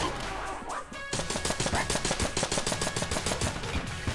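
Rapid gunfire from the video game Enter the Gungeon plays as a dense, steady stream of loud shots after a brief quieter start, with no talking.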